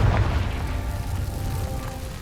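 In the video game Hogwarts Legacy, a Confringo fire spell lands with a deep boom at the start, and a low rumbling tail fades out over a couple of seconds.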